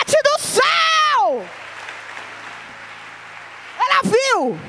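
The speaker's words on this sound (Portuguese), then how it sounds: "Dá uma salva de palmas para Jesus" Church congregation applauding in a broad, noisy wash that swells and then fades, with a voice speaking loudly before and after the clapping.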